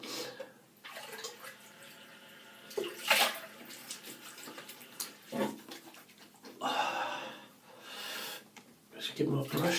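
A shaving brush with angel hair bristles is rinsed under running water, with splashing and gushing bursts that rise and fall close by.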